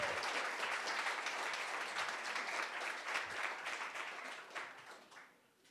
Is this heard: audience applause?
yes